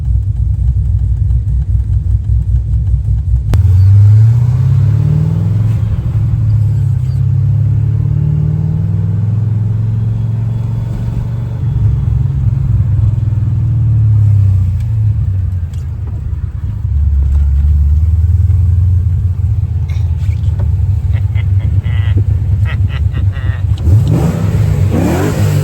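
A Pontiac GTO drives with a deep, loud engine note, rising and falling through several revving pulls and settling between them, heard close from inside or beside the car.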